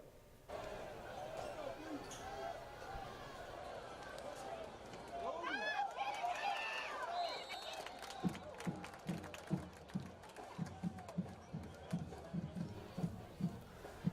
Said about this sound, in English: no commentary for Oxford and South Panola, just a good old crowd noise